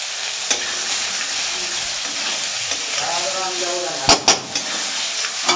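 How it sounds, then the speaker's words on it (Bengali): Crushed olives for pickle being sautéed in a pan, a continuous sizzle and hiss with scraping stirring strokes and a few louder clacks of the utensil, close up. "এই জলপাইটাকে এখন ভালো করে কষিয়ে নেব।"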